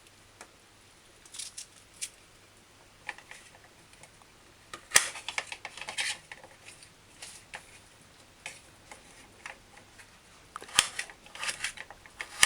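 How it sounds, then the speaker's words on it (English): A knife dices chocha into half-inch chunks on a cutting board while goat curry stew is prepared, giving soft, irregular taps and clicks at a moderate distance in an otherwise quiet kitchen. "dice your chocha to small chunks, say about half-inch chunks"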